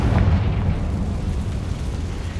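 A Confringo explosion spell in the video game Hogwarts Legacy, a loud rumbling blast that rolls out and decays over a couple of seconds amid game ambience.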